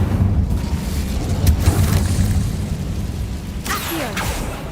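The Incendio fire spell cast in Hogwarts Legacy: a loud, booming burst with a whooshing blast, followed by a rumbling, crackling tail and a second sharp whoosh near the end.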